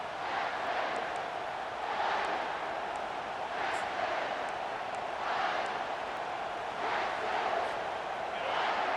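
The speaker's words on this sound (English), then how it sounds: "This crowd busting the decibel meter and trying to will a fourth down stop." Stadium crowd roaring in the video game College Football 25, a sustained, loud crowd din that swells and fades in rhythmic surges, with no clear talk over it.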